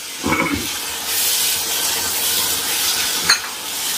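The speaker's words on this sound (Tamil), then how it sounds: "இப்போ நல்லா கறியெல்லாம் போட்டு நல்லா வந்து மசாலாவில் பரட்டி விட்டுப்பேன்" Meat stirred and fried in masala for biryani gives a steady loud sizzle with scraping stirs near the start and a sharp clink near the end, close up.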